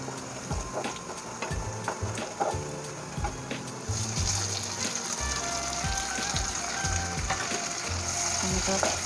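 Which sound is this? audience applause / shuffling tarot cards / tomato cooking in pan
tomato cooking in pan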